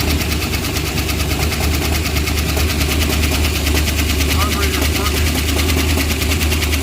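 A 1968 Dodge wagon's engine runs loudly after 25 years of sitting, a rough, steady rapid-pulsing idle close to the mic, with people talking over it.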